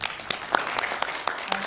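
Audience applause at a press conference, scattered sharp claps spaced irregularly across the moment, fairly close and thin rather than a dense ovation.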